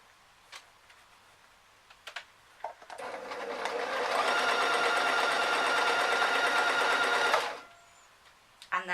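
A sewing machine stitches close to the edge of a pajama vest top, speeding up into one steady loud run of about four seconds after a few faint clicks, then stopping.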